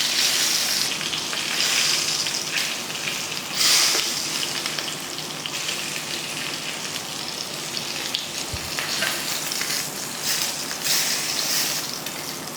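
Pieces of meat searing in a hot pan give off a loud, steady frying sizzle with crackling spatters that rise and fall throughout, with no talking.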